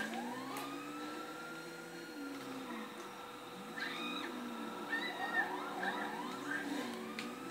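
An ambulance siren in the video game GTA 5, a wavering tone playing steadily in the background under game noise throughout.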